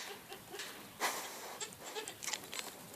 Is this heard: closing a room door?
no